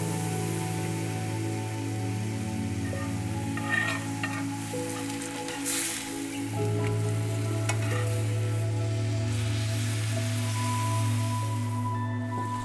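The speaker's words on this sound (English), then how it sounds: "I'll reduce the teriyaki in the pan, deglazing it until it's ready to coat the steak" Teriyaki sauce reducing in a steak pan, a continuous close sizzle and bubbling with occasional scraping from a utensil, steady throughout with a low hum underneath.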